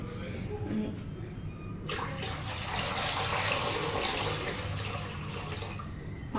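Water poured into a wok to be brought to a boil, starting after a brief pause as a loud, continuous rushing splash that holds steady to the end.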